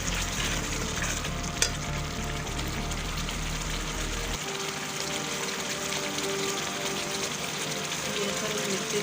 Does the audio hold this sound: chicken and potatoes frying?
yes